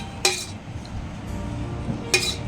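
A spoon mixes raw mango and sugar for chhundo in a dish, making two sharp, close metallic clinks about two seconds apart over a quiet background.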